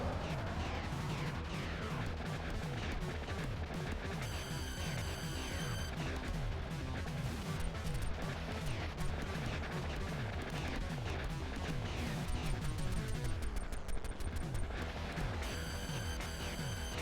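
A ship fires at a boss in Thunder Force IV, with dense, rapid rhythmic shots and blasts layered over busy game music, continuous and fairly quiet.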